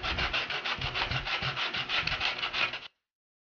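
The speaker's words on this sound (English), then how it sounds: "just sand down this rough edges here" Steady back-and-forth sanding strokes rasp against the rough edges of a homemade fish basket in a quick regular rhythm for about three seconds, close and fairly loud, then stop abruptly.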